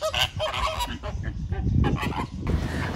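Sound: flock of Chilean flamingos honking at the zoo

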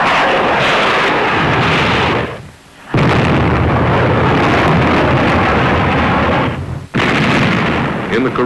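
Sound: battleship USS New Jersey guns in shore bombardment

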